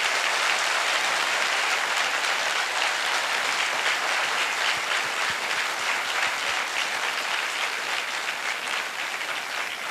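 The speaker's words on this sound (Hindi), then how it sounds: "हमारे राजपूत सर के लिए एक जोरदार क्लैपिंग होनी चाहिए दोस्तों" Enthusiastic applause for Rajput sir from an audience, a steady, dense clapping that holds throughout without voices.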